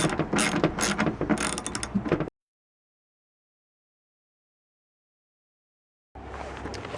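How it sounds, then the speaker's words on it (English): A hand ratchet tightens bolts on a Harbor Freight 800 watt generator, its rapid pawl clicking loud and close for about two seconds, then silence for four seconds before the ratcheting resumes. "So I'm going to take my ratchet and I'm going to tighten them down."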